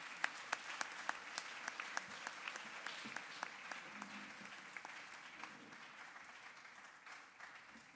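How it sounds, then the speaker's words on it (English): An audience applauds a friend honoured for fighting for patients' human rights, with sharp, evenly spaced claps heard faintly and at a distance, slowly thinning out near the end. "So I ask you to clap again"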